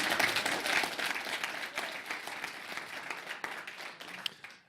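An audience at a city planning commission meeting applauds in a dense, moderately loud patter of many hands, holding steady and then thinning out toward the end, with no voices over it.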